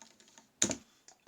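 Close, crisp key clicks from a ThinkPad laptop keyboard, with a few light taps then a dense burst of rapid typing and a couple of later strokes, no voices.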